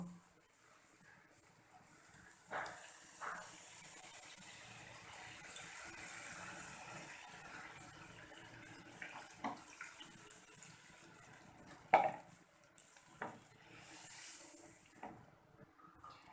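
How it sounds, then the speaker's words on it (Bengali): Water poured into a cooking pot of spiced potatoes for dim aloo, a soft continuous rushing and splashing with a few faint knocks, quiet and close, with no talk. "এখন এর মধ্যে আমি জল দিয়ে দেব।"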